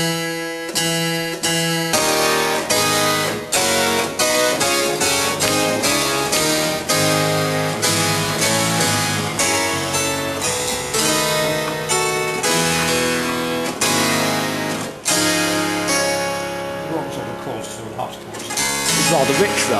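A harpsichord on its four-foot register plays a busy passage of bright, crisp, ringing plucked notes, steady and loud throughout with a few brief pauses.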